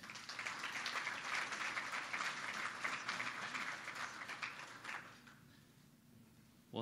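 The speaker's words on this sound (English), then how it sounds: "Can we all give a round of applause for Nate?" An audience at a morning business networking event gives a warm round of applause, many hands clapping evenly for about five seconds before it quickly dies away into quiet.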